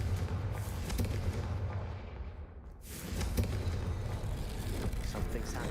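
Blasting spell cast in the Hogwarts Legacy video game, a loud booming explosive burst over dense rumbling battle noise, a brief lull, then another heavy blast with continuing gunfire-like crackle.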